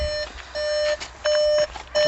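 Repeated electronic beeps from a Volkswagen Golf 7 R, three or four steady tones in an even on-off rhythm, fairly clear and close.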